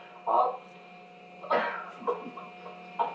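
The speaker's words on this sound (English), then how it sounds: "That cough again, it gets me every time." A few short coughs, close by, with a quieter stretch between them and faint vocal sounds mixed in.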